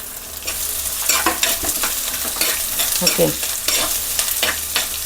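Onion and green chili stir-fried for a Kerala fish curry with kudampuli: a steady close sizzle with repeated scraping strokes of a spatula across the pan, and a brief word spoken over it.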